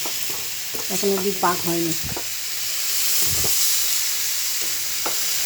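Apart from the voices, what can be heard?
stirring coconut mixture for narkel naru in a pan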